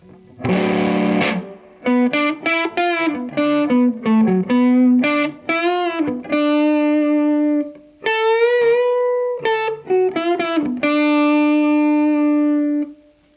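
A distorted electric guitar plays a string of bent notes and short phrases through a Fender Tone Master Deluxe Reverb amp, each ringing out with a wash of reverb between pauses.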